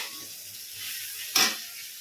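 Pointed gourd (parwal) sizzling in a frying pan, a quiet steady hiss with one louder burst of crackle near the end, no voices.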